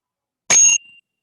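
A single bright bell ding rings out once, sharp and clear, then leaves a short thin ringing tail in otherwise total silence.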